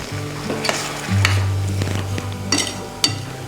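Sizzling in a pan of frying turkey berries as water is poured in for a kuzhambu, with a steady hiss, a low hum underneath and occasional clinks of a stirring spoon against the pot.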